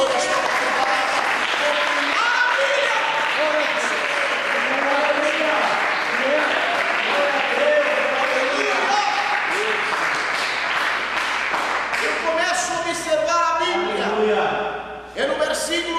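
A church congregation at an overnight vigil applauds in sustained, full clapping. A preacher's voice and shouts run over it, and the clapping thins out near the end.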